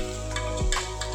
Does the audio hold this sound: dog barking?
no